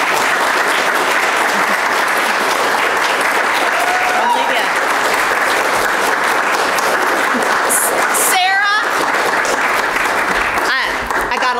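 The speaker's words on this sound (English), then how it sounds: "Let them finish clapping first." Sustained applause from a church congregation at a Unitarian Universalist gathering, dense and steady for about eleven seconds, with faint voices mixed into the clapping.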